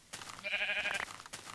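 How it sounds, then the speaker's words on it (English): A single sheep in the Minecraft video game gives a short, wavering bleat that stands alone against a quiet background. "So let's go find a sheep"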